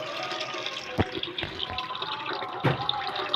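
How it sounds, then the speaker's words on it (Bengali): Dirty rinse water poured off washed lentils in a kitchen, a brief splashing pour with a couple of sharper splats, moderately close and fairly quiet. "তো আমি এইভাবে নোংরা জলটা দেখো ফেলে দিলাম"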